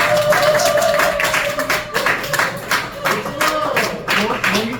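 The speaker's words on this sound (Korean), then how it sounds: "박수 한번." Applause breaks out at a lecture forum, a scattered patter of hand claps from the audience that swells and fades over several seconds, with some voices mixed in.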